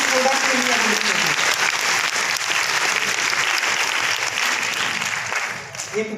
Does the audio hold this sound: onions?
no